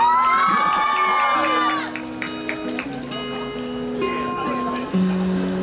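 A crowd at a busker's street flash event in Central, Hong Kong, cheers and whoops loudly, with voices rising over the noise before musical tones come in underneath.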